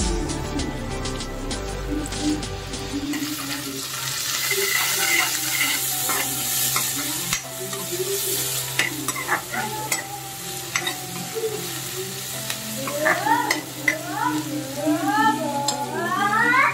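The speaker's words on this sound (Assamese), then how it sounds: "এয়া পিঁয়াজটো ৰঙচুৱাকৈ ভাজি লৈছোঁ আৰু এয়া নহৰু আদা।" Onion, garlic and ginger sizzle and crackle steadily in hot oil in a pan, with stirring scrapes and frequent spatters throughout; no talk.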